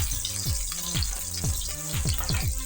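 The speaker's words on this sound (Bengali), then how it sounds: "দেব তার মধ্যে 2-3টা তেজপাতা, দিয়ে দেব কুচিয়ে রাখা আদাগুলো, দিয়ে একটু ভালোভাবে নেড়ে চেড়ে নেব।" Bay leaves and chopped ginger fry in hot oil in a pan and are stirred. A bright, steady sizzle runs throughout, close and loud, with a repeating tonal sound underneath.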